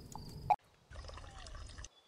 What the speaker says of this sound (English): Refill the water